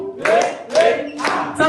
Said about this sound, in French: Et pour cela, on va applaudir.